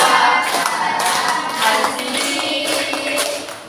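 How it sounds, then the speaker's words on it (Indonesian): A group sings an Islamic children's song about Abu Bakar while clapping hands along in a steady rhythm, in a classroom lesson on Islamic cultural history; the claps are close and blend with the bright, sustained singing. "silakan nyanyi sambil tepuk tangan"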